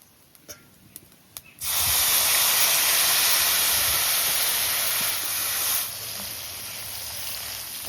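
Ground spices hitting hot oil for a jackfruit and prawn curry, with a few soft clicks before a loud, steady sizzle bursts in near and continues for several seconds, easing slightly toward the end.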